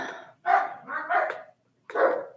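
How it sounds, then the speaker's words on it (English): Dogs barking in short bursts, several loud barks close by with a brief pause between groups. "Do y'all hear the dogs in there?"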